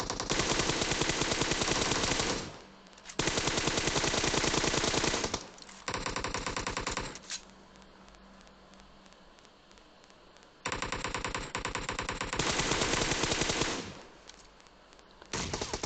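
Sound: gunfire in video game PUBG Mobile

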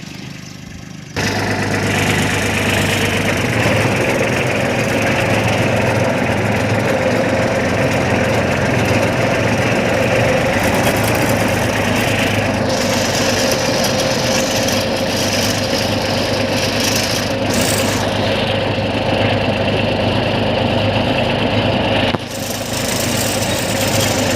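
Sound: tractor engine running

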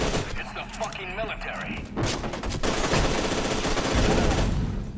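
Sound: gunfire in the video game F.E.A.R. 2

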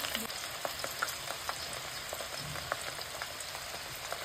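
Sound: ginger and garlic frying in hot oil, stirred

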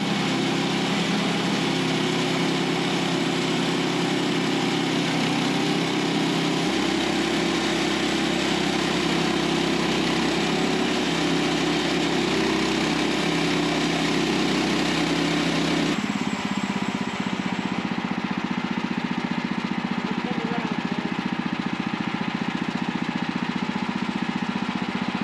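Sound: Woodland Mills HM130max sawmill engine sawing lumber

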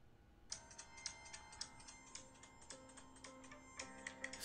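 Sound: phone notification sound

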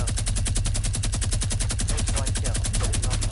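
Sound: minigun firing in Fortnite video game

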